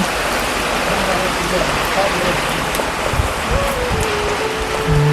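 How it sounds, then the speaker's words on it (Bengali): Heavy rain falls in a steady, dense hiss, with a voice faintly audible beneath the downpour. "পুরো এত বৃষ্টি হচ্ছে কি আর বলবো"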